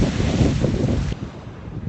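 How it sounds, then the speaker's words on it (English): Strong wind buffets the microphone on the Atlantic coast at Stuart, Florida, a loud, rumbling gusty roar that drops somewhat after the first second and continues more softly to the end. "Man, it's windy a little bit."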